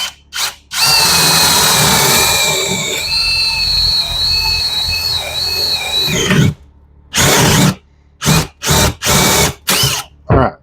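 Power drill boring a hole while installing kitchen cabinets: a long, loud whining run with a high squeal, then several short sharp trigger bursts, close up.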